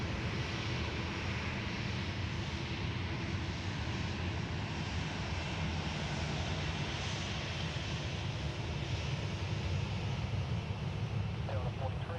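Airliner arriving at Sydney Airport during the morning arrivals rush, a steady, loud, continuous jet roar that holds broadband and even across the whole stretch, with the faint murmur of people talking underneath.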